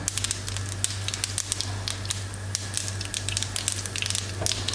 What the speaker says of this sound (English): Now do you see the crackling?